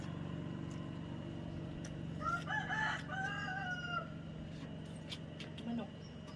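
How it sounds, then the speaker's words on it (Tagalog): Chickens outdoors, a rooster crowing once in the middle over scattered clucks, moderately distant, with a steady low hum and faint background noise throughout. "Manok."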